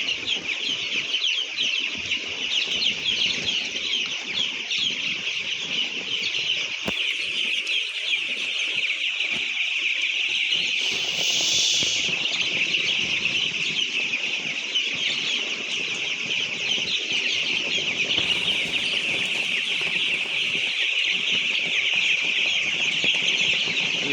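Inside a poultry farm at night, with rain falling outside, a dense crowd of chickens and chicks keeps up a steady, unbroken chorus of high peeping and clucking with no voices.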